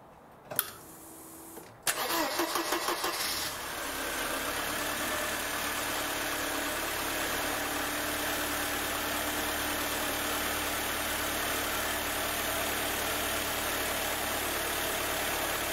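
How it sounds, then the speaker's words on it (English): A 1988 Mercedes 190E cranks briefly, catches and settles into a steady, smooth idle that continues evenly, close and moderately loud with no talking. "But let's get that car started."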